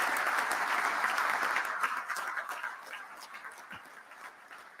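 Crowd applause at an outdoor airline pilots' picket rally, dense clapping at the start that gradually thins and fades over several seconds, with a few cheers mixed in.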